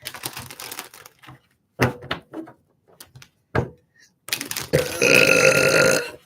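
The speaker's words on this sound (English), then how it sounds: "I'm going to do 2 more shuffles." Tarot cards are shuffled in bursts of riffling and tapping separated by short pauses, ending in a longer, louder continuous shuffle close by.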